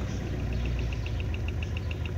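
A car engine running steadily after a timing chain replacement, with a constant close mechanical drone and a faint regular ticking vibration. The pitch holds level with no clear rise or rev.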